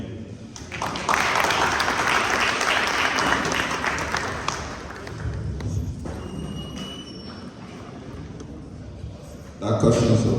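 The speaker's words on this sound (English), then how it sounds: "A round of applause" Applause from an audience at a violence prevention community event, rising quickly, holding for a few seconds, then thinning into scattered clapping with a murmur of voices before a louder burst at the end.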